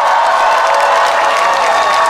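A large crowd at an evening outdoor festival concert claps and cheers in a dense, steady wash of applause.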